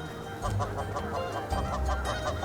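Arctic birds call at their nesting grounds in a busy chorus of repeated clucking calls, steady and fairly close over a low background rumble.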